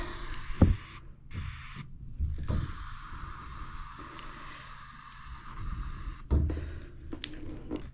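A steady broadband hiss of water spraying under pressure from a leaking pipe, punctuated by a few sharp clunks and knocks nearby.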